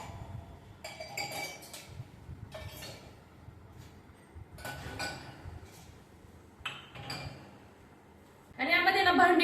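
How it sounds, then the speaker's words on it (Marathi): Dishes, glasses and utensils are placed into a dishwasher rack, producing intermittent close clinks and knocks of metal and glass, ending in a louder rattling burst. "ही सगळी भांडी व्यवस्थित लावून घेते"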